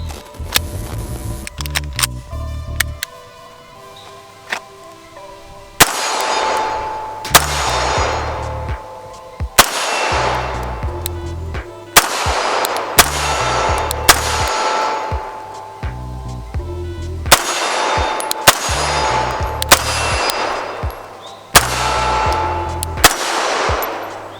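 A custom CZ P07 pistol fired at an outdoor range, loud sharp reports ringing out in quick strings and singles, with metallic clinks and short pauses between shots.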